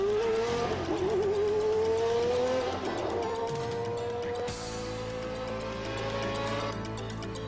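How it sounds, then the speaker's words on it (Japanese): A Formula 1 car driven by Ayrton Senna leaves for a test run on the circuit, its high-pitched engine whine climbing steadily with brief dips as it accelerates, loud and continuous over a steady low background. "マシンは弾かれたようにサーキットへと飛び出していきました"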